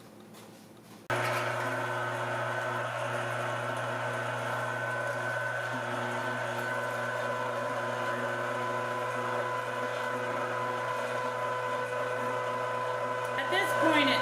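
An LEM #8 electric meat grinder starts up after a second of quiet and runs steadily, grinding pork with a loud, constant motor whine and hum; a brief scraping rattle comes near the end.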